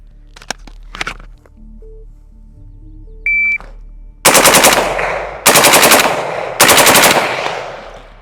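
A shot timer beeps, then three rapid strings of gunfire ring out from a firearm fitted with a Super Safety trigger, each burst loud and close with a decaying echo, after a few quiet clicks and handling noises.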